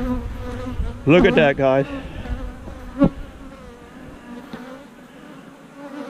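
Bees buzz loudly and densely around a hive whose occupants have been disturbed, with a brief spoken remark over the steady insect hum.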